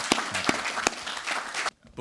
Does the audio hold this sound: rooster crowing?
no